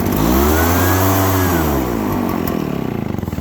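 A small two-stroke engine loaded up with excess gas revs loudly close by, its pitch sweeping up and falling, then settling into a rough, pulsing idle as the fuel burns off.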